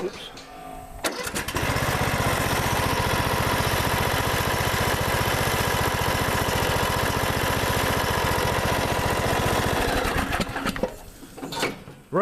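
A Cub Cadet 3205 riding lawn mower engine cranks and catches, then runs loud and steady at close range for about nine seconds before cutting out, with brief voices around it.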